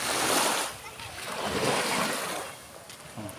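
Sea waves wash and splash near the shore, a steady, rushing surf with gusts of wind buffeting the microphone, swelling and fading over a few seconds.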